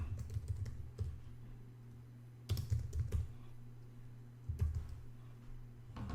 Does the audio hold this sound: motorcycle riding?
no